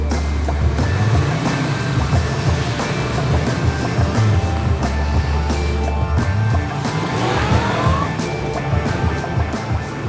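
A 2023 Yamaha MT-10 SP is ridden through pouring rain, its engine droning under a constant wash of wind and spray noise, with rumbling and a brief rising engine note.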